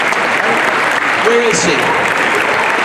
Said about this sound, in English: I just want everybody to give her a huge round of applause